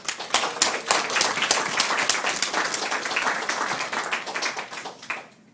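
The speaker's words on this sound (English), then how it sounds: "I think you deserve a round of applause." Applause at a wedding ceremony, many guests clapping in a dense, steady patter that starts at once, holds for about five seconds and tapers off at the end.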